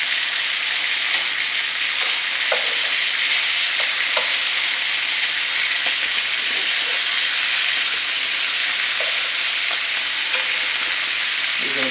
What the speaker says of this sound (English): Turn the sausages over.